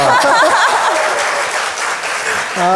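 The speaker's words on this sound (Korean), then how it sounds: "이럴 때 박수를 치시는 겁니다." Studio audience applause breaking out on a Korean talk show, a dense, steady patter of many hands with laughter and voices mixed in.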